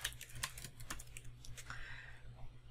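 Quiet typing on a computer keyboard, a run of light, irregular key taps heard close but faint, with no speech.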